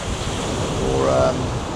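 Atlantic surf breaks at El Camison Beach in Tenerife: a broad, rushing roar blended with gusty wind buffeting the microphone. A faint tonal call rises briefly near the middle.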